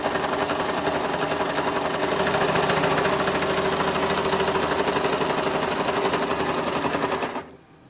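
A sewing machine stitches steadily around the edges of a cloth napkin, a fast, loud, rattling run of needle strokes that continues without a break for about seven seconds and then stops abruptly.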